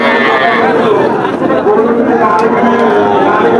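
Cattle at a busy livestock market give low moos and lowing beneath loud, constant crowd chatter and nearby voices.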